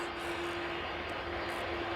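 A Finnair Airbus A330 waits beside the Polderbaan runway at Amsterdam Schiphol before departing for Helsinki, its engines a steady, distant whine with a constant tone over a broad rumble.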